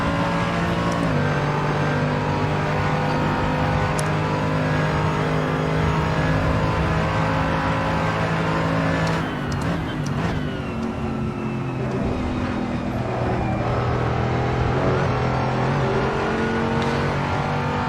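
A front-engined Mercedes AMG GT3 race car lapping Daytona, its engine droning loudly and continuously from the cockpit, with shifting pitch as it brakes and accelerates through a chicane and a brief rattle over the curbs midway.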